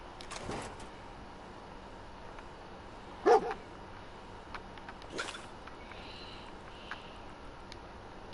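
Dogmeat, the dog companion in Fallout 4, lets out a single short bark, with a couple of fainter yips around it over a quiet game ambience. No one speaks.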